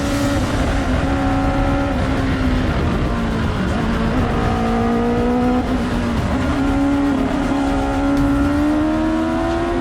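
A race car powered by a 1.3-liter turbocharged motorcycle engine screams uphill at the Pikes Peak hill climb, held at high, steady revs with its pitch dipping and climbing through gear changes, loud and continuous for the whole stretch.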